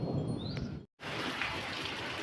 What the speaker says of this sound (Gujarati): તો મિત્રો વરસાદ શરૂ થઈ ગયો છે વરસાદ આવે છે